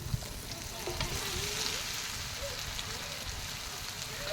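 Turmeric-coated beef tripe sizzling loudly in a hot pan, a dense continuous crackle and hiss like heavy rain, close and steady throughout.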